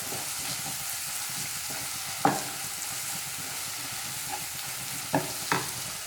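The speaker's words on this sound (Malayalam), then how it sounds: "നന്നായിട്ടൊന്ന് ഇളക്കി കൊടുക്കാം." Onion, garlic and crushed ginger sizzle softly in a pan for chicken liver fry while a spoon stirs, with a few sharp scraping clacks against the pan over a steady low frying hiss; no talking.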